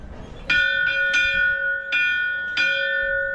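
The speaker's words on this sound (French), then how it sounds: "je vais sonner la cloche de la fausse ligne" A bell rings out four clear, resonant strokes at an irregular pace, each leaving a long ringing tail, struck at a fake equator line attraction in Ecuador.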